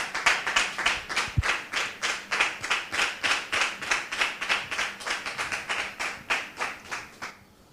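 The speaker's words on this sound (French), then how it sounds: "nous le recevons avec beaucoup de joie et beaucoup d'applaudissements" A studio audience claps in unison to welcome a guest, with sharp rhythmic rounds of synchronized claps at a fast, steady beat lasting several seconds before stopping abruptly.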